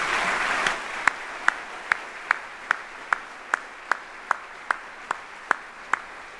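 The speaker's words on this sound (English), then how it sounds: "I'd like a big round of applause for Beth Stitt." An audience at a military retirement ceremony applauds, the soft crowd clapping fading into a slow, steady series of single sharp claps that ring out about twice a second, fairly faint and without talk.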